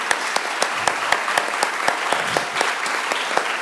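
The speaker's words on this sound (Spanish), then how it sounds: "Les pido un aplauso para los 4 que están acá" Conference audience applauding at an environmental and agrarian forum, a steady dense patter of clapping with sharper individual claps standing out throughout.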